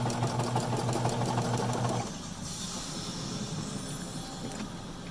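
A sewing machine runs a securing stitch across a fabric face mask with elastic, giving a close, continuous mechanical hum that drops to a softer whir halfway through.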